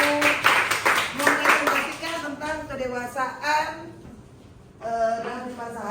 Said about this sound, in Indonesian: Kita kasih aplaus buat kelompok 2